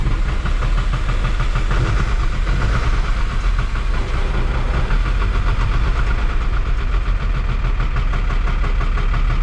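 A 1975 Chevy diesel engine with a repaired runaway throttle runs loud and close, a continuous rough, knocking clatter that holds steady throughout with no speech.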